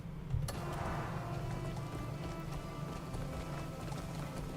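Horse hooves clip-clopping at a run in the video game Crimson Desert, a steady, moderately close rhythm of hoofbeats under game ambience and music, with no talking.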